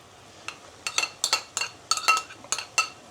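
Spoon clinking against a pot while stirring two tablespoons of tomato paste into fried onions and meat for Turkish dry bean stew, a series of close, sharp metallic taps in irregular rhythm over a quiet background.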